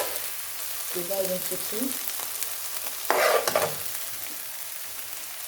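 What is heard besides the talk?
rice frying in a pan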